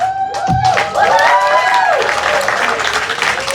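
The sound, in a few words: applause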